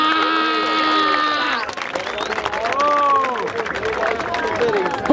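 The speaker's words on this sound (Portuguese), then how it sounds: "palmas pra essa batalha" Crowd at a Brazilian rap battle clapping and cheering loudly after a sustained tone cuts off, with voices shouting over the noise.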